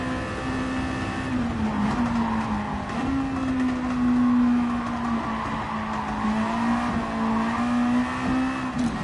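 A Ferrari race car in Gran Turismo 7 drones steadily at high revs on a circuit, its engine note wavering slightly as it holds speed, with a hint of tyre squeal throughout.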